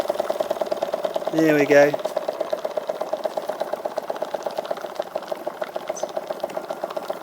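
A boat engine idles at a gentle tick over, its rapid, even mechanical pulses loud and close and running steadily throughout, while someone speaks briefly near the start.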